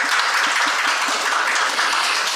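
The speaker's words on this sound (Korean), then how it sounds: "앞서 발표해 주셨던 세 분과 좌장 및 토론자분들을 큰 박수로 맞이해 주시기 바랍니다." A conference hall audience claps warmly to welcome a panel of speakers onto the stage, a dense, sustained round of applause that stays even and full throughout.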